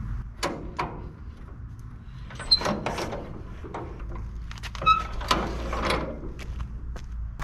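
A Fordson F tractor engine is pull-started on full choke with the ignition off, giving several separate mechanical clanks and ratcheting rasps at irregular intervals, close and fairly loud, with no voice.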